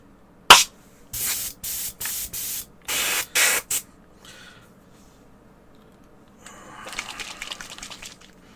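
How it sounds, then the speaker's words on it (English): An airbrush sprays black paint onto a Star Wars Legion miniature, heard as a sharp hiss followed by a series of short, close, even bursts of spraying, then a fainter rustling near the end. "Let me get the airbrush out again and do that black."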